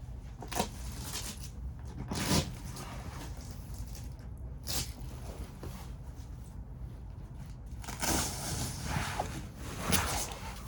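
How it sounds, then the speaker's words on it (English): A plastic zip tie is pulled tight around an antenna on the arch of a 1984 Chris-Craft Catalina boat, giving a few short ratcheting rasps spread over a steady low background with no talking. "zip tie the antenna to the arch, just so it doesn't whip against it in the wind"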